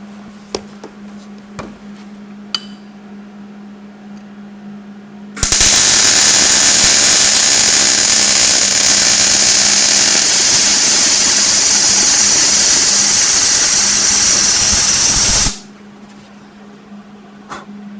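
A MIG welder lays a bead on scrap metal, a loud steady crackling hiss lasting about ten seconds, with a quiet low hum and faint clicks before and after.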